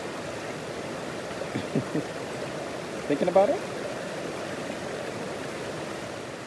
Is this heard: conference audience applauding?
no